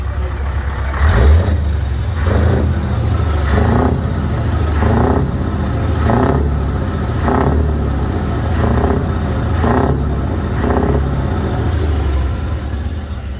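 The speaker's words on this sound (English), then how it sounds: "massive thank you to Reggie for letting me sit in his 4 Series and give it a few revs, as you can see here" A BMW 4 Series engine at a truck show is revved about nine times in a steady rhythm, each rise and fall close and loud over a constant idling rumble and open-air background noise.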